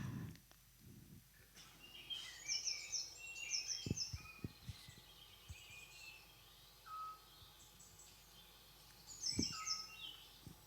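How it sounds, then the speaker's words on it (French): Tits chirp in short repeated high bursts against a quiet outdoor background, with an occasional soft, low, fluted call of a scops owl among them. "vous allez entendre une petite mésange et un hibou petit duc"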